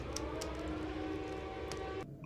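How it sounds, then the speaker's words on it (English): A sustained air raid siren wail from Silent Hill holds steady under a noisy background, then cuts off abruptly near the end. "Those freaking air raid sirens."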